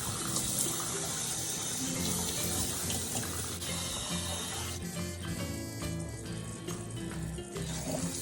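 Water running steadily from a tap during a puppy's bath, a constant close splashing gush with no talk over it.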